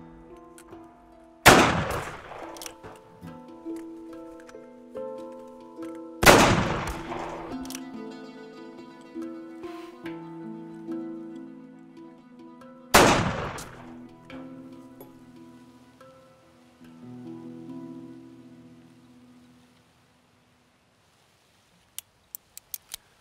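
Three loud, sharp gunshots in a Western action thriller, spaced several seconds apart, each followed by a long ringing, echoing decay, with a few faint clicks near the end.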